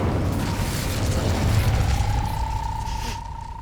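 A fire spell cast in Hogwarts Legacy, heard as a continuous roaring, rumbling burst of flame that holds steady for several seconds with a rising whistling tone, then eases off near the end.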